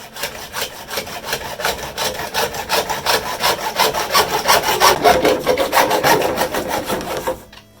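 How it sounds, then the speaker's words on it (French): A hacksaw cuts through PVC pipe in quick, rhythmic back-and-forth strokes, close and loud, each stroke a rasping scrape, continuing steadily until the cut finishes and the sound stops. "je vais le couper à l'aide de ma scie à métaux."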